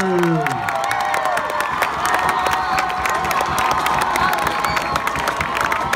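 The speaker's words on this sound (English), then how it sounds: "applause for the award-winning Marching Panthers" A crowd cheers, whoops and applauds for the award-winning Marching Panthers marching band, a dense, steady roar of clapping and shouting voices with a few high children's shouts, loud and sustained throughout.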